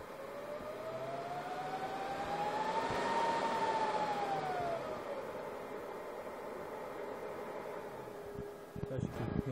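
A Dell PowerEdge 2850 server boots with loud cooling fans: a whining tone climbs and then eases back down over a steady, rushing roar of air.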